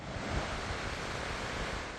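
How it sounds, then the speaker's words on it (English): Floodwater from the South Esk River roaring into a residential street during Storm Babet, a dense, steady rushing wash close by with no voices. "The South Esk River roaring into this residential neighbourhood, swamping hundreds of homes"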